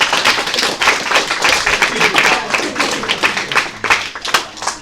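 An audience claps for Miss Barbero, a guest at a health career speaker series. The clapping is dense and steady for several seconds, with individual sharp claps standing out near the listener.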